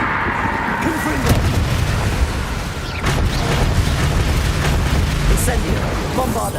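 Confringo spell blasts in Hogwarts Legacy: loud booming explosions with sharp bursts at intervals over a constant rumbling battle din, with game voices in the background.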